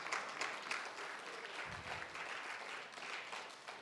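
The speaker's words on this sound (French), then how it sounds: "Acclamez le Seigneur, s'il vous plaît" A church congregation applauds, faint and distant, a soft, even patter of clapping filling a reverberant room with a brief low thump partway through.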